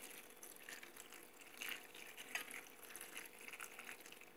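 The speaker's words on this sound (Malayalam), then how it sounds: "അതിലേക്ക് കുറച്ച് വെള്ളം ഒഴിച്ച്" Water poured into a cooking pot while making a Kerala kovakka and raw mango thoran, a soft steady trickle at low level with a couple of brief splashy bursts near the middle, no talking.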